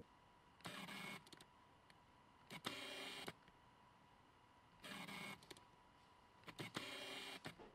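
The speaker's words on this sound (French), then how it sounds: "Je vous fais également écouter le bruit de l'autofocus du 50 mm qui lui n'est pas silencieux." Autofocus motor of a Sony 50mm f1.8 lens, very close and quiet: four short whirring bursts of about half a second to a second each, spaced apart by near-silence.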